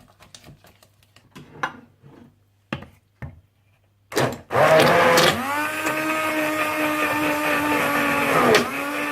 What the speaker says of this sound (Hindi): या मेरी तरह हैंड ब्लेंडर से अच्छी तरह से ब्लेंड कर लीजिएगा